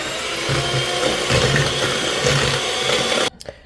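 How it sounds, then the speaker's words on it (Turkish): Eggs and sugar are whisked together for a chocolate cake batter, producing a loud, steady mechanical whirring that runs continuously and then cuts off abruptly near the end. "Evet şu şekilde gördüğünüz gibi yumurtayla şekeri çırptım arkadaşlar."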